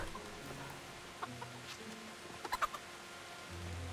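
Chicken clucking in the medieval role-playing game Kingdom Come Deliverance: a few short, fairly quiet clucks near the middle, over faint game ambience with no talking.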